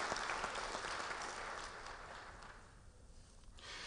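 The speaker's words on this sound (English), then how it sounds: "Y'all give these brothers a round of applause for all of the work they've done into making tonight possible." A crowd at an Alpha Phi Alpha fraternity regional public program applauds the local hosts, with a steady wash of many hands clapping that eases slightly toward the end, heard from a moderate distance.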